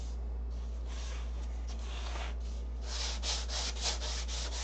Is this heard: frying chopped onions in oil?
no